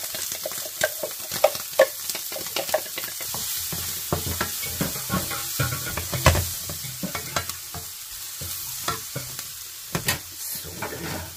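Onions sizzling in a pan while being stirred, with repeated scraping and clacking strokes of a utensil over a steady frying hiss, close and fairly loud.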